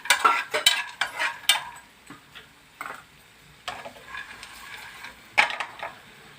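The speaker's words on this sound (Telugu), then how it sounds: "ఇవి కూడా వేసుకుని ఫ్రై చేసుకుందాం" Sun-dried urad dal vadiyalu frying in a pan, with a soft sizzle under repeated sharp clinks and scrapes of a utensil stirring against the metal, some close and loud, others lighter.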